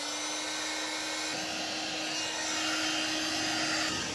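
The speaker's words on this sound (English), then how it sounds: "Don't use a heat gun on these, they melt." A heat gun blows on a plastic sill cover of a Mk2 Golf, giving a steady, close, airy whine with a constant tone that shifts slightly near the end, no voices.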